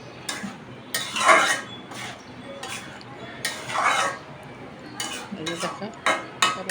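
Fish being fried in a wok for a Bengali cauliflower and hilsa dish, heard as intermittent stirring and metal utensil clatter against the pan over a faint background sizzle, in bursts of scraping and clinking.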